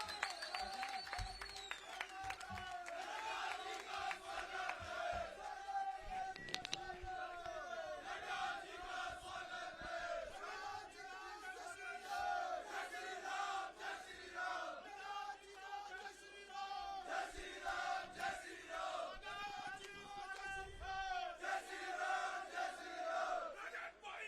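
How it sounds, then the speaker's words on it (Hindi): Large crowd at a BJP election rally in Mandi, Himachal, cheering and shouting slogans with bursts of applause and clapping. The roar is sustained and rises and falls over a long stretch, with voices chanting in waves and loudspeaker talk mixed in. "सभी खड़े होकर जोरदार तालियों के साथ इनका अभिनंदन स्वागत करें।"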